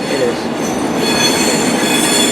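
A train at Glasgow Central station rumbles loudly and steadily under the station roof, a dense continuous roar of motors and wheels with faint high squeal tones, with no one talking.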